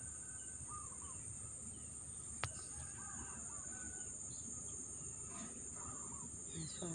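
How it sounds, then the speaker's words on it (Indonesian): Birds calling near a fish pond in a cool, leafy rural garden, scattered faint chirps over a steady high insect drone, with a single sharp knock midway. "Suara burung."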